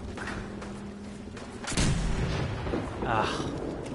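A weapon fires in Fallout 4, giving two heavy, booming shots about a second and a half apart, each loud and close, with a murky game ambience between them.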